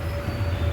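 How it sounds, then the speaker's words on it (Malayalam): A train braking as it slowly runs downhill, a close, steady low rumble with a thin sustained brake whine on top, heard alone in a brief stretch. "ബ്രേക്ക് പിടിച്ച് വളരെ പെതുക്കെയാണ് ഇറങ്ങി വരുന്നത്"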